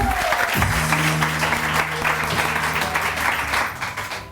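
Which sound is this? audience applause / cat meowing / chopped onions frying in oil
audience applause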